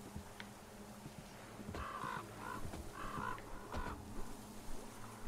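Two ravens caw in a swampy area in the game Metro Exodus, giving a few hoarse, rhythmic calls over about three seconds above a low ambient hum.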